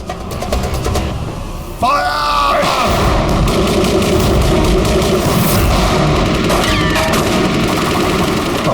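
Rapid bursts of machine-gun fire in a TV crime drama shootout, loud and sustained across the scene, with dense crackling shots over music and ambient action noise.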